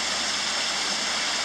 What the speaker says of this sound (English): I've enjoyed watching water tumbling over rocks like this. I guess you could call it a waterfall,